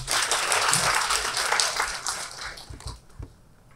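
Audience applause at a youth and regional development conference presentation in Korea, a loud, dense wash of clapping that fades toward the end with a few scattered claps.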